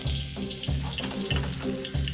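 Scallion whites frying in hot lard in a wok, a steady sizzle broken by recurring scraping strokes at a regular pace, close and fairly loud with no voices.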